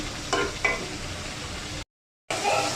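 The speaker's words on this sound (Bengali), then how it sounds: "দেখুন মিডিয়াম আঁচে ভেজে নেব ডুবো তেলে।" Potato strips deep frying in oil over medium heat for French fries, a steady close sizzle with a couple of light stirring knocks and a brief dropout.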